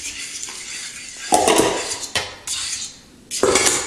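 A spoon scrapes and knocks around a bowl while cinnamon bun mixture is stirred, giving several short bursts of clattering mixing sounds separated by brief pauses.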